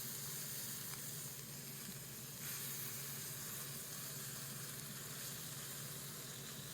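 A fillet sizzling in a pan: a steady, close frying hiss with faint bursts of spatter and steam, continuous throughout and with no speech over it.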